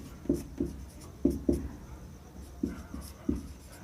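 Marker or chalk writes math on a board in short scratchy strokes, some in quick pairs, close and fairly quiet with brief pauses and no talking.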